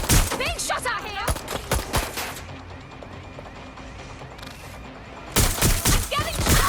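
Bursts of automatic gunfire aimed at the player in Watch Dogs Legion, loud rapid volleys at the start, a quieter lull in the middle, then another heavy barrage near the end.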